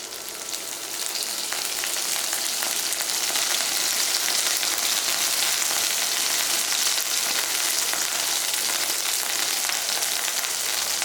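Chicken frying in a pan as its garlic milk marinade is poured in, a loud, even sizzle and crackle that holds steady throughout with no talk.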